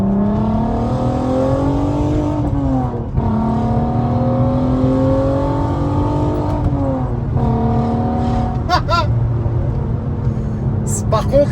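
A VW Golf 5 R32 with an F-Town exhaust idles and revs, its engine note rising and falling in several loud, close sweeps with a steady rumble underneath, ending in a few sharp pops.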